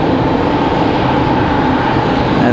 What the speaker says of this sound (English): JetBlue A220 starting up down there